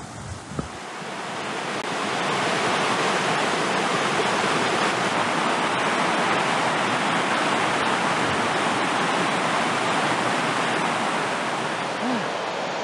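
A river rushes beside a backpacking campsite in the Dolly Sods Wilderness, a loud, steady broadband roar that builds over the first couple of seconds and then holds unbroken, with no voices.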